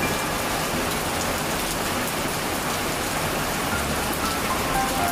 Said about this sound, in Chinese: 这是今年最大的一场暴雨。